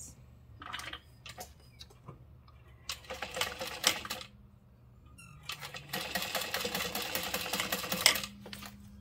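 A sewing machine stitching a seam on a triangle bag at a 4 stitch length, running in short bursts and then a longer steady whirring stretch, close and clear with pauses between.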